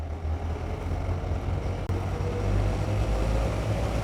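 Twin Volvo Penta D4 diesels on a Bavaria SR33 cruiser build revs as the boat accelerates onto the plane, a low steady drone with water rush and a brief thump midway.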